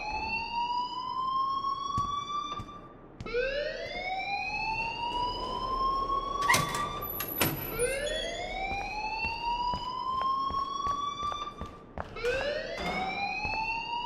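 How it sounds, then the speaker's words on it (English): An alarm in the video game Life is Strange wails in repeated rising electronic sweeps, loud and steady across the scene, with a few clanks and knocks in between and no voices. "please turn off that alarm since that's your job"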